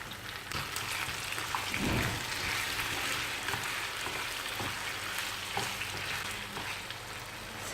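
Onions and chicken sauté with curry leaves in a pan for a Tamil chicken varuval, producing a continuous close sizzle marked by occasional louder spatters and stirring bumps.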